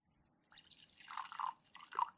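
A drink poured into a glass, a soft close trickle that builds into a couple of louder gurgling pulses before fading, with no voices.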